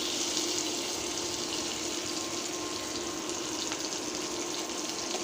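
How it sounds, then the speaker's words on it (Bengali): Shrimp frying in hot oil in a pan after onions were fried, a steady, continuous sizzle holding at an even level from start to finish with no voices. "চিংড়ি মাছ ভেজে নিচ্ছি"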